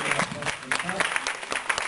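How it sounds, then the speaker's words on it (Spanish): A church congregation at a Sunday service in Lauderhill, Broward, breaks into lively applause, a brief burst of scattered clapping with voices mixed in. "quiero que me den un aplauso, ¿verdad?"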